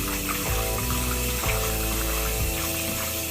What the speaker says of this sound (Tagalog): Pugasan lang natin ulit siya sa tubig.